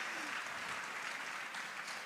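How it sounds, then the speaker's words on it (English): An audience at a formal Air Peace tenth-anniversary gala applauds after a video, producing a dense, steady wash of clapping that fills the whole moment without pause. "I think it deserves a better round of applause"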